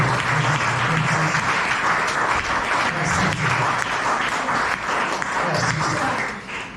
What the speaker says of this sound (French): Applaudis, mon Dieu.